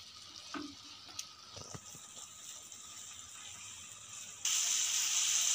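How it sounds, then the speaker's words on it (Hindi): Vegetables for a bread lasagna filling cook in a pan over a low flame, giving a steady soft sizzle with a few light stirring clicks, turning brighter and louder toward the end; no one speaks. "ये सारी चीज़ें अभी हम थोड़ी देर पकाएंगे। फ्लेम हमें लो करनी है।"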